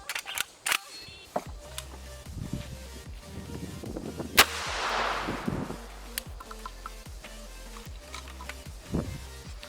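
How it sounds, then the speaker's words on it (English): A 12 gauge magazine-fed shotgun fires Sportsman Select birdshot at an outdoor range: one sharp report with a rolling tail, among scattered clicks and handling noises. "I'm gonna give it a shot of that Sportsman Select birdshot and see how many, if it won't go through all of them"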